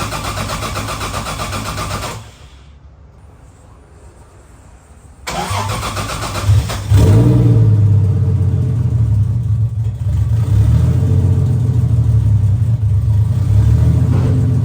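A car with an open downpipe exhaust fires up for its first start: a steady drone, a brief near-silent pause, then the engine cranks and catches into a loud, rough, rumbling idle close by.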